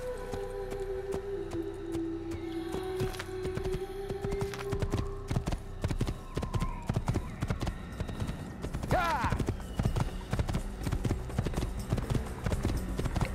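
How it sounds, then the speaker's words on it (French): Horse hooves clip-clop in a steady, rapid rhythm through Assassin's Creed gameplay, mid-level and continuous across the stretch, with a brief whinny partway and someone speaking French over it at times. "Aller chercher le cheval."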